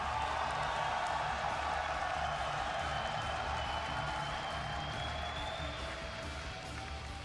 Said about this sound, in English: when the crowd cheers for Jaedong, it still like that, erupts into our headsets